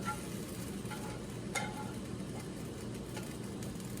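Mushrooms and zucchini sauté in a pan for stuffed bell peppers, giving a steady, even sizzle throughout with a couple of faint clicks of a utensil against the pan.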